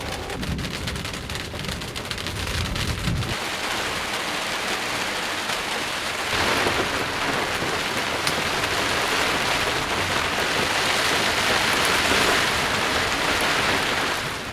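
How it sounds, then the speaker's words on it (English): Heavy rain pours in a storm at Wind Cave National Park, a loud, dense, unbroken hiss that swells partway through, with low rumbling at the start and no voices. "I think the rain might be done"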